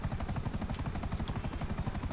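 A helicopter flies in GTA Online, its rotor thumping in a fast, steady pulse, loud and close throughout.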